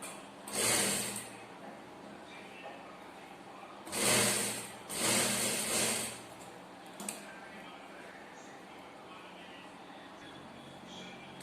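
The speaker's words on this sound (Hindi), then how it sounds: "अब हमें यहाँ पर सिलाई चलाना है किनारे को बरोबर" A sewing machine stitches along the edge of a plain blouse in three close, loud whirring runs of one to two seconds each, separated by quiet pauses, with a soft click afterward.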